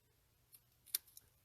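Scissors snip fine paper detail in a few faint, crisp clicks, one sharper cut standing out amid quiet surroundings.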